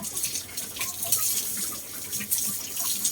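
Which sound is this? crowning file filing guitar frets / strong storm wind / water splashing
water splashing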